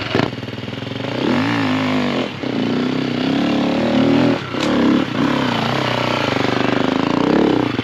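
Dirt motorcycle engine revving loudly and continuously nearby, its pitch rising and falling through several throttle blips with a rough, buzzing tone that fills the whole stretch.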